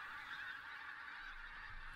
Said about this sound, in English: Perthshire is one of the special places for pink-footed geese.